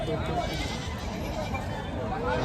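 At a crowded goat market, Osmanabadi goats let out short, wavering bleats amid steady background chatter and people talking close by.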